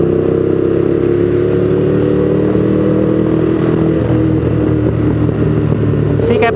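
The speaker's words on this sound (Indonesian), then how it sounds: "Adem suaranya kalau si Captain mah, nggak berisik" A motorcycle engine, compared with a four-cylinder 250 cc bike, runs steadily and fairly loud for the whole stretch with a smooth, quiet-natured tone and slight pitch shifts, while some voices are faintly mixed in.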